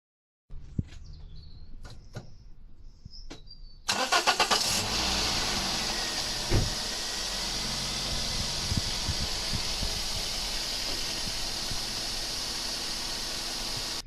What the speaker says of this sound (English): now we're going to start the car so it can go around the system and go into the oil